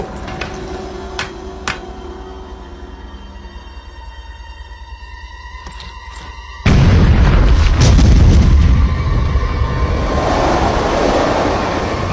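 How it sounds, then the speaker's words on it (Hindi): A cartoon rock is blown up, a sudden loud booming blast that bursts in midway after quieter tones and then rumbles on heavily and continuously to the end. "उड़ा दो इस चट्टान को।"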